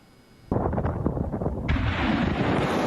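A HIMARS multiple rocket launcher fires ATACMS tactical missiles. A sudden loud blast cuts in, then a dense, sustained roar, with a second surge as the rush grows harsher and keeps on to the end.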